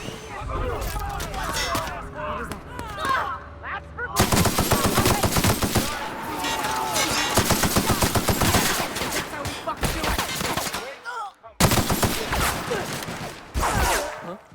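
Rapid automatic gunfire from companions' weapons in the video game The Outer Worlds, loud bursts of shots rattling almost continuously with brief pauses, heavy and close in the mix.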